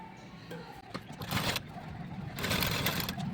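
A sewing machine stitches a folded hem on a blouse in a few short runs of rapid needle clatter, with a longer burst at the end and quiet talking in between.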